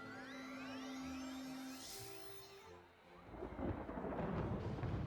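In the video game Wizard101, a lightning bat storm spell rises through tonal, synthetic sweeps and then breaks into a loud crackling, thunder-like rumble that carries on to the end.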